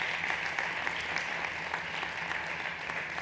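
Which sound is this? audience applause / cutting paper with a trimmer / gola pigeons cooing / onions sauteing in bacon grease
audience applause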